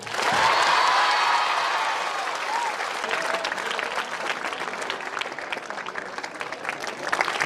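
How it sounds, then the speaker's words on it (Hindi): Loud audience applause at a school alumni meet for JNV Laduna in Mandsaur, a dense burst of clapping that peaks early and then settles into steady, slightly thinner clapping through the end. "तालियां इतनी जोर से बजाओ कि एलुमनाई को जोश आ जाए।"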